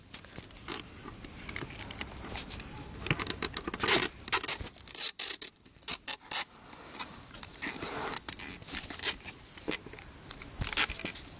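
Repeated sharp ripping and crinkling noises of cheap adhesive tape being pulled and torn to repair a broken bench, in irregular bursts with handling rustles in between, close by.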